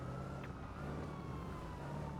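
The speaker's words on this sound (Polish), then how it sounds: "Ciągle słyszę syrenę gdzieś w pobliżu, strasznie mnie to irytuje." A siren sounds somewhere nearby as a faint, slowly falling wail, continuous over a steady low hum and background noise.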